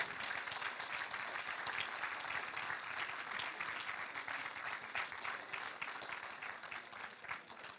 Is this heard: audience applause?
yes